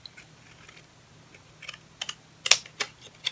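Pinking scissors snip around small paper images to make homemade mock stamps, producing quiet scattered clicks that build into a few crisp, louder snips near the end, with no talk.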